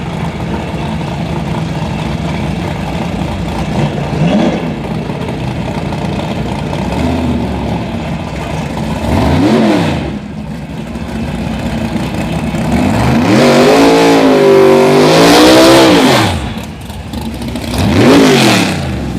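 A nitrous-assisted G-body Chevrolet Malibu race car at a raceway idles loudly, then revs repeatedly in rising and falling sweeps, with a long, powerful rev building and dropping near the end, close and alone.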